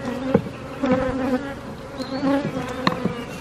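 Honey bees buzz inside an opened hive, a close, dense drone that swells and fades while individual bees pass near with brief louder buzzes.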